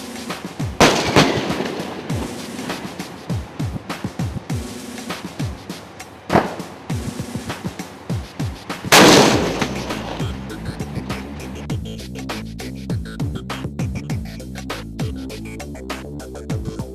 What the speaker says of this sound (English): an attack exercise with live firing and involving Air Force, aviation, artillery and armor as well